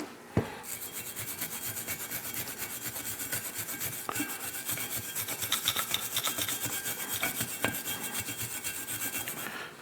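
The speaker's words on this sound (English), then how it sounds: "we're going to take the wire brush to all these surfaces too and get these nice and cleaned up" A wire brush scrubs the surfaces of a brake caliper bracket on a 2010-2018 Toyota 4Runner with continuous rapid, close scratchy strokes, opening with a sharp knock and holding a steady rasping rhythm.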